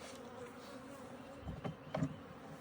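Honey bees buzzing around a beehive, a soft continuous hum with a few louder passes as bees fly close to the listener.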